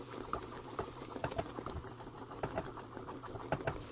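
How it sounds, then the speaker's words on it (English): Thickening syrup bubbling and foaming over a burner at medium-high heat while sugaring paste is made at home: steady close popping and spattering of bubbles with soft liquid patter, no talking. "it's kind of getting a little thick here, but still bubbling, foaming up rather."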